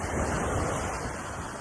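Sea waves surge and roar continuously during torrential flooding in Sangre Grande, Trinidad, with heavy wind buffeting the microphone throughout and no voices.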